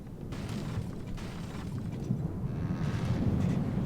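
Bombs burst in the naval combat game From the Depths, making a continuous, dense rumble of overlapping explosions and low booms that grows slightly louder toward the end, with no talking.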